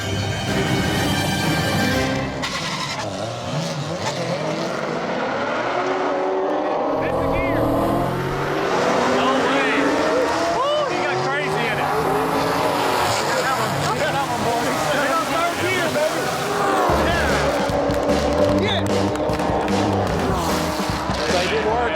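Nitrous-fed C7 Corvettes roar off the line in a drag race, loud engines revving and sweeping in pitch with tire noise, while voices talk over the racket throughout.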